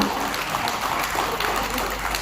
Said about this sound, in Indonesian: boleh kita beri aplaus yang meriah untuk acara yang luar biasa